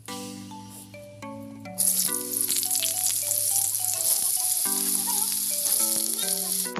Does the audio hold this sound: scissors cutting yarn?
no